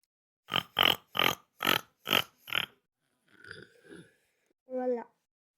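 A person imitates a pig with six rapid, evenly spaced snorting grunts up close, followed by a couple of softer snuffles and a short voiced squeal.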